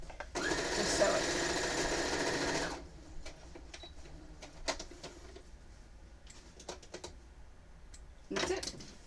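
A sewing machine stitches binding onto a quilt in one loud, steady burst of about two and a half seconds. Fainter clicks and handling taps follow, and a brief whir returns near the end.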